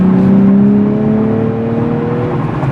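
A 2023 Nissan Z accelerates to speed, its engine note droning loud and close as the pitch climbs smoothly through a gear, with no talking.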